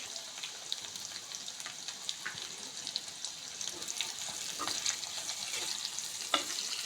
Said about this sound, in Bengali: পেঁয়াজটা আমরা আগে সুন্দর করে ভেজে নেব।